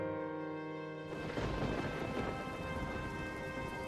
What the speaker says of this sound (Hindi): सुबह हो चुकी थी, लेकिन बारिश अब भी तेज बरस रही थी।